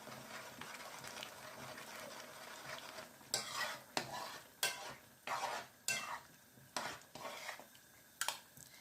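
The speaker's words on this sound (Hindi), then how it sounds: "इसके अंदर हम ये डाल देंगे और साथ साथ हिला देंगे थोड़ा सा" A spoon stirs ingredients into a thickening gravy in a cooking pot, giving a soft background sizzle and then a string of distinct scraping, clinking stirs in quick rhythm near the mic, with no talking.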